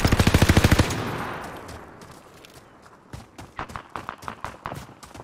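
Rapid bursts of gunfire from a video game target-shooting round: a quick repeating string up front, then a scatter of sharp single shots and short volleys, loud and close.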